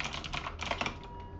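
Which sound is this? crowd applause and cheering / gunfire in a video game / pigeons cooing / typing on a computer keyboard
typing on a computer keyboard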